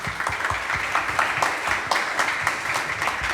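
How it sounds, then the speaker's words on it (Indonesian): An audience at a Ramadan religious lecture claps together in a sustained, lively burst of applause, dense and rhythmic, heard up close without talk over it. "Tepuk tangan untuk kita semua"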